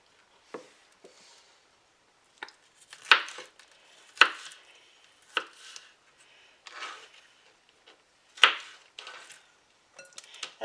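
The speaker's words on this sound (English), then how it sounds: "Boy, this knife is cutting lovely." A knife cuts through an orange bell pepper on a board in a series of crisp, separate slicing and tapping strokes, irregularly spaced and fairly faint, with quiet pauses between cuts.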